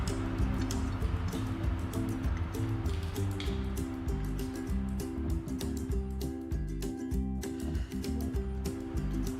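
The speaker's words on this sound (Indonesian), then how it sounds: "menuang larutan NaOH ke dalam burat 50 ml" NaOH solution pours through a glass funnel into a 50 ml burette during a titration lab, with continuous liquid trickling and dripping, small glassy clinks and ticks, and a steady low hum throughout.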